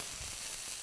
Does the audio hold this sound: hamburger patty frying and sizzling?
yes